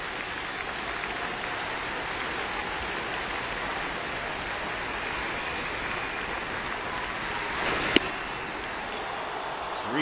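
A baseball stadium crowd at a Seattle at Toronto game roars and applauds in a continuous wash of noise, with a sharp crack near the end and a voice speaking underneath.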